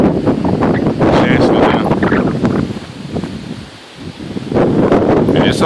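Gusty high wind from a fast-moving storm roars and buffets the microphone in loud surges that ease briefly and then pick up again, while a person speaks a few words.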